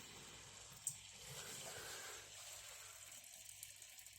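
A small waterfall trickles steadily inside a frog terrarium, a soft continuous splash of running water close by, with one brief tap near the start and no talking.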